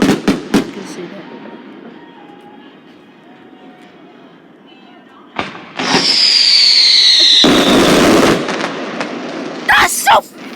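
Loud fireworks bursting over an open field: a few sharp bangs, then a rising whistle and crackling explosions up close, with excited voices talking and shouting.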